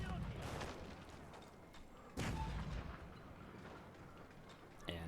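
Cannon fire during a siege in a strategy video game, with a few deep booms, one sharply louder near the middle, under a commentator's talk at low overall level.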